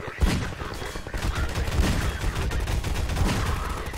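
A turret in Half-Life 2 rattles off rapid bursts of gunfire, dense and continuous over about four seconds, fairly close.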